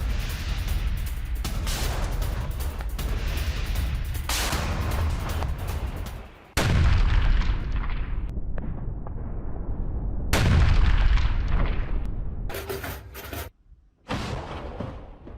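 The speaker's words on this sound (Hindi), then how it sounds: "आर्टिलरी हमले में यूक्रेनी कमांड पोस्ट ध्वस्त हुआ है" Artillery fire strikes a Ukrainian command post: loud, heavy booms and long rumbling blasts follow one another, broken by abrupt cuts and brief quiet gaps.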